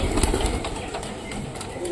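Soft cooing of a single Lakka pigeon in a low murmur, fairly close, over a steady bed of background noise, with no talking.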